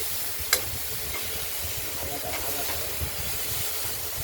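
Thinly cut pumpkin frying in oil in a wok, a soft, steady hiss and sizzle with a sharp clink near the start and a few faint stirring knocks, fairly quiet overall.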